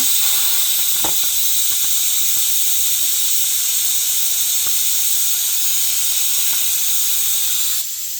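Steady, loud hiss of a pressure cooker on rapid steam release after cooking dal, continuous for about eight seconds with a few faint clicks underneath, cutting off abruptly near the end; no talking.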